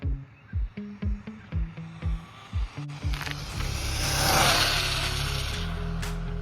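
A GTFans M610 1/12-scale RC car on a 3S pack with a 5400kv motor pulses its throttle in a series of short whines, then holds a rising, sustained full-throttle run, loud and close.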